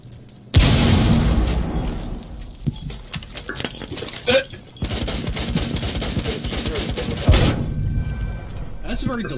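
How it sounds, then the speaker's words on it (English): A delayed grenade in a video game explodes with a sudden loud boom that decays into rumble, followed by clattering debris and further bangs, with people talking throughout. "That's a very delayed grenade."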